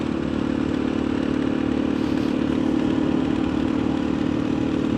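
Motorcycle engine droning steadily while riding on a cold day, a constant close mid-pitched hum with wind rush and no talking over it.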